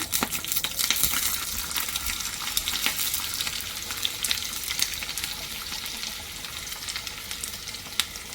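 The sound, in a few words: garlic frying in hot ghee in a tadka pan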